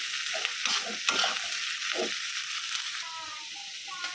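Hilsa fish heads frying in hot oil in a pan, a continuous close sizzle with stirring scrapes and clatter, while a voice talks faintly underneath.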